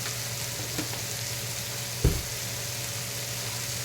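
Spices for vangibath frying in a pan, a soft steady sizzle with light stirring scrapes and one brief clatter midway, close and quiet with no voices.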